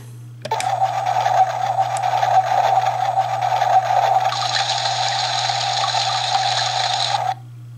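An electronic river-fording sound from an Oregon Trail handheld game: a steady buzzing, whirring synthesized tone lasting several seconds over a low hum, loud and near, ending abruptly.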